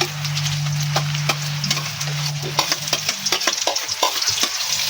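Onion, garlic and ginger fry in a hot pan for chicken adobo, with a loud steady sizzle up close. Irregular spatula scrapes and taps against the pan come through as the pieces are stirred.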